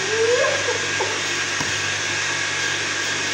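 An electric mixer whisks chiffon cake batter with a steady, close whirring hum that runs unbroken, with a faint voice at the start.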